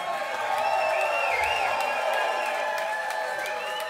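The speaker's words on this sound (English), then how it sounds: "give the loudest round of applause you've ever given for this amazing band behind me" A concert crowd at Jams On The Sand applauds and cheers for a band: a steady, dense wash of clapping and crowd noise that holds loud and unbroken throughout, with no talk over it.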